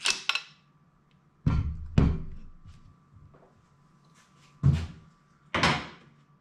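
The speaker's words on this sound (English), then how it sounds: "Undo the little screw here. Like so, and gently slide out your barrel." An FX air rifle's barrel is slid out by hand during a Slug Power Kit installation, giving a few close, separate clunks and knocks of metal parts with quiet pauses between them and no talking.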